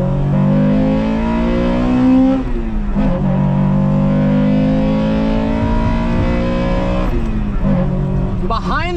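Acura Integra Type R on a drive, its engine revving loudly through rising gear pulls with brief dips at shifts, a strong close-up droning tone throughout.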